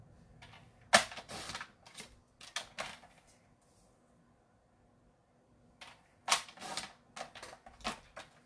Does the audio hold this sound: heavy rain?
no